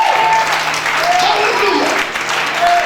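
Church congregation applauding and cheering in a steady, dense wash of clapping that continues throughout, with a few voices rising over it.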